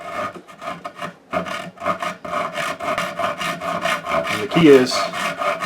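A coarse rasp files wood on a custom guitar build, producing loud, rhythmic scraping strokes in a steady back-and-forth series, with a brief spoken phrase over it.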